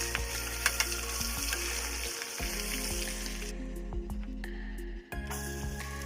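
Chicken breast frying in a pan of oil and butter while being basted, a steady close sizzle with occasional soft clicks and scrapes from the spoon, briefly dipping near the end.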